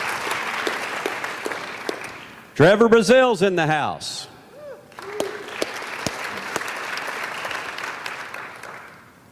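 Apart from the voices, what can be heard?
audience applause at rodeo press conference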